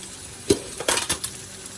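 Crushed chili peppers and spices drop into a pan of hot butter sauce, giving a few short bursts of sizzle and frying crackle up close, with no talk.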